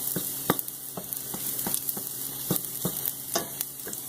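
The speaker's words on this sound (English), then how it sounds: "Let that saute for a minute. Spatula. Make sure we'll move it around." Garlic sautéing in a hot pan for a shrimp vodka pasta, a steady close sizzle broken by repeated scraping strokes of a spatula moving it around, with no talking.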